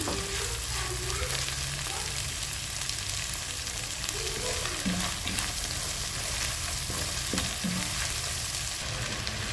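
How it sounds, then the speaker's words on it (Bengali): A spice paste of tomato, ginger and garlic sizzles steadily in mustard oil, with a constant frying hiss and occasional stirring scrapes, close and moderately loud with no talking. "তো এগুলো আমি ভালো করে একটু ভেজে নিচ্ছি"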